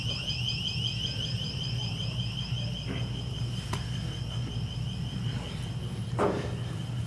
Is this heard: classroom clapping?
no